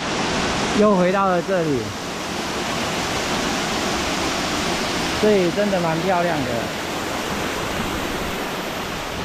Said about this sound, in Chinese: 从这个缺口就是瀑布往下